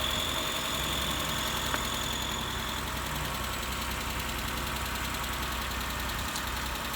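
A repaired Mitsubishi Eclipse car engine runs steadily at idle, a continuous close mechanical hum with a faint knocking texture and a couple of brief clicks, no voices.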